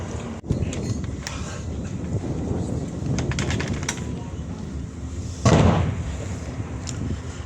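A special operations military exercise near Thessaloniki, Greece, with a sharp explosive blast early on and a second heavier boom later, both over a constant roar of outdoor noise with faint voices beneath.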